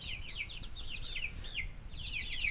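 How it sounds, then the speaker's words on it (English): Chickens, including a rooster, in a messy coop or pen, making rapid high-pitched chirps and clucks in repeated bursts over a steady low rumble. "Right here, this one right here, that is a rooster."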